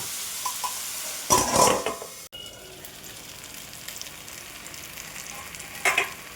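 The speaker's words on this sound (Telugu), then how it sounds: "మెంతాకు ఇలా వేగిన తర్వాత ముందే కట్ చేసి పెట్టుకున్న టమాటాలను కూడా వేసుకోవాలండి" Fenugreek leaves and chopped tomatoes frying in a pan for a methi tomato curry, with a short burst of loud sizzling and stirring near the start and another brief sizzle toward the end, over a quiet steady background.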